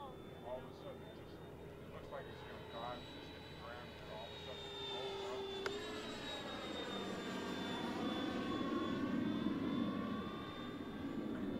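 A scratch-built F4D Skyray RC jet circling in to land, its turbine giving a steady, moderately distant whine that shifts pitch midway and swells slightly as it comes around, continuous throughout with faint talk underneath.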